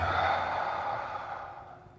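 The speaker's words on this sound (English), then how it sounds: "Anytime you take a big deep breath in and just" A single big, deep breath drawn in and let out, close and soft, with the airy exhale fading away toward the end.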